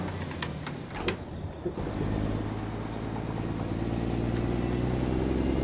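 A truck in American Truck Simulator pulls away, its engine drone building from a few clicks and knocks into a steady, rising hum.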